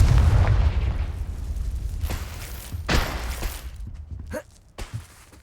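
Confringo fire spell in the Hogwarts Legacy video game bursting in a loud booming explosion, followed by a few sharper crackling pops and impacts as it fades.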